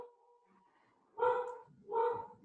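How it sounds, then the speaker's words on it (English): Two loud dog barks ring out close by, one after another, following a faint high whine. "Excuse my dogs in the background."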